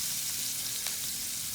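Onions dropped into hot oil in a pan for pork menudo give a steady, even frying sizzle, close and continuous, with no speech over it.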